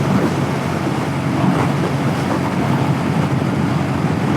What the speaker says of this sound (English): Woohoo, man, it's windy out here.